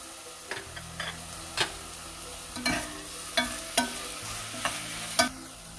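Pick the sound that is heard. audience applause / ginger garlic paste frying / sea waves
ginger garlic paste frying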